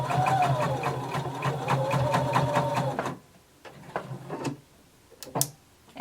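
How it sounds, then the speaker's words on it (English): A sewing machine stitches back over a thick belt loop, running steadily and close for about three seconds before stopping, followed by a few soft handling clicks and rustles. "Once you pass your belt loop, I want you to go back and sew over it again."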